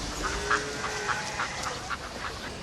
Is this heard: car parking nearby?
no